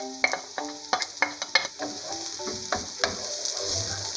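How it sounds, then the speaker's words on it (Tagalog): Garlic and onion sautéing in hot oil for pansit bihon, a bright continuous sizzle punctuated by sharp metallic clinks and scrapes of a utensil against the pan, close and loud. "Ayan, panggigisa natin."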